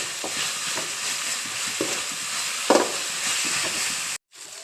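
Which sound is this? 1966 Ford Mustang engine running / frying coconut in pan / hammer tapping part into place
frying coconut in pan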